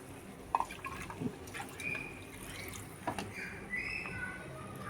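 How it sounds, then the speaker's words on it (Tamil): Liquid trickles and splashes into a pot in short bursts, with a few drips and light clinks, close by and fairly quiet. "புளி தண்ணி கரைச்சி வச்சுருக்கு, புளி தண்ணியை ஊற்றணும்."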